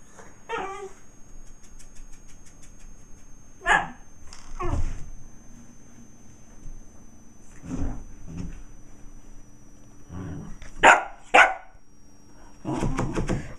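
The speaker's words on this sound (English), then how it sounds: "What are you barking at?" A dog barks in several short bursts, some single and some doubled, with pauses between, fairly close, alongside occasional knocks like a cupboard or drawer.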